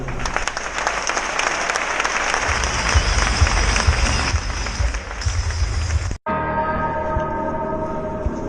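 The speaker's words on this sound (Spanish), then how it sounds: "Fuerte aplauso." Crowd at a 15 km night race in Valencia breaking into loud, dense applause and cheering that holds steady for about six seconds, then cuts abruptly to music.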